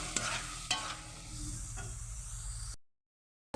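Beaten sour yogurt is stirred into a sizzling chicken curry base in a pan, a steady fry with a few scraping strokes of the spoon, close and moderately quiet, stopping abruptly near the end.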